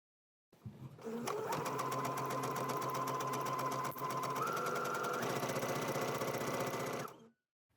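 Sewing machine stitching down the side seam of a skirt, running steadily and loudly for about six seconds with a dense rapid needle rhythm and a slight pitch shift partway through, alone without talk.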